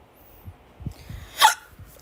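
A single sharp hiccup stands out near the end, loud and close, after a few soft low thumps and breaths in an otherwise quiet room.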